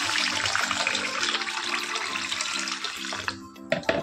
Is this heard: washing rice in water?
yes